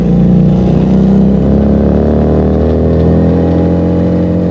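A Keeway SCR 250V motorcycle with a Mavionic aftermarket exhaust idles loudly and steadily, rising in a gradual rev with a deep, throaty drone throughout.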